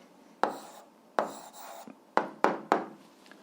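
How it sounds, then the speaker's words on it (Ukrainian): Pen writing an answer to an 8th-grade algebra exercise on paper, five short scratchy strokes close up, each a quick rasp separated by brief pauses, with no talk. "записуємо відповідь, пишемо відповідь"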